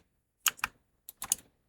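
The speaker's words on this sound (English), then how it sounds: "Here's me clicking with 2 buttons." Mouse or key clicks in a platformer level-building game, two quick paired clicks followed after a short gap by another tight double click, crisp and close with no talk.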